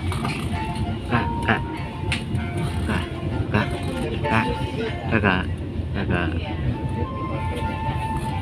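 Indonesian Railways Gajayana passenger train slowing to a stop, heard from inside as a constant rumbling roll with faint rhythmic wheel clacks and squeals, with muffled voices in the carriage.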